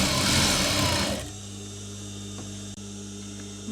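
Electric sewing machine stitching the hem of black curtain fabric, a loud steady whirring run that stops after about a second, leaving a low mains hum.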